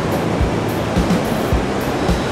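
Strong ocean surf at Playa el Palmar beach in Ixtapa Zihuatanejo: a loud, continuous wash of breaking waves with rhythmic low thumps and rushing spray, close by and without voices.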